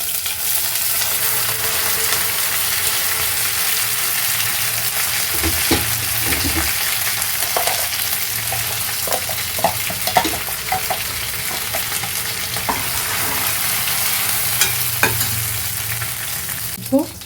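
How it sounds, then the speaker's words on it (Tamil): Continuous loud sizzling of mustard seeds and split lentils frying in hot oil for a chutney tempering, with occasional crackles and pops and some stirring, no voices. "இப்போது கடுகு உளுத்தம்பருப்பு நல்லா பொரிஞ்சு வருது பாருங்கள்"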